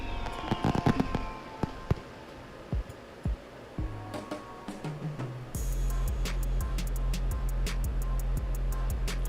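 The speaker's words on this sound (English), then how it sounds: "I like fireworks." Fireworks going off in the video game Farming Simulator 22: a burst of sharp crackling pops and bangs, then a steady loud crackling barrage with rhythmic thumps that runs on to the end, with no talking.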